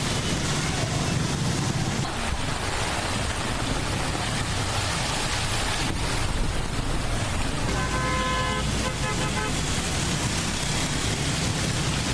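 Steady rain falling on a busy Karachi street, a dense continuous hiss with traffic noise and occasional car horn toots cutting through, loud and unbroken throughout.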